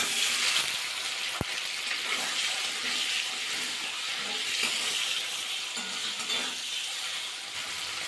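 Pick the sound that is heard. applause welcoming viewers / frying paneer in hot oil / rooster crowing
frying paneer in hot oil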